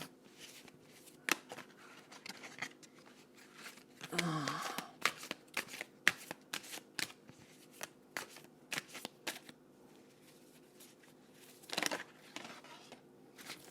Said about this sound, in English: The cards flying everywhere.